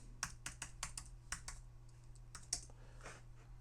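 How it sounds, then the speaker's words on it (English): Rapid keystrokes on a computer keyboard mixed with mouse clicks while someone works in a spreadsheet, coming in quick bursts with short pauses, close and fairly quiet. "Clicking the right cell might help."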